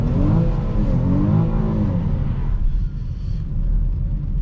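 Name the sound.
3.6 liter V6 car engine revving while driving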